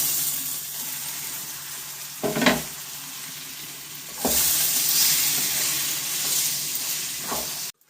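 Boiled taro leaves going into a hot pan with a hilsa fish head, a continuous close sizzle and fry hiss broken by a few sharp clatters of the spoon against the pan.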